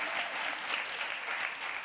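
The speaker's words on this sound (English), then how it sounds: "Yes, clap for Rene." A studio audience applauds at a live talk event, a brief, even burst of many hands clapping, steady and fairly close throughout.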